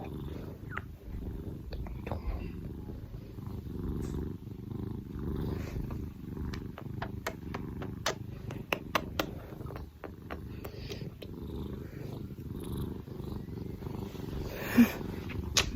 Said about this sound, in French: Mais comme, il ronronne.